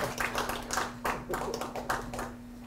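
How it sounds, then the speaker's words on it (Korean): Scattered audience clapping at an academic conference session closing, faint and fairly sparse, with irregular bursts of hands over a steady hum and a little background voice. "우리 박수로서 1부 1세션 마치도록 하겠습니다."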